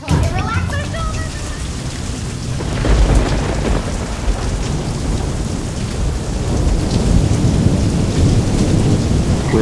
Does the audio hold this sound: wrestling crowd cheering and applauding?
no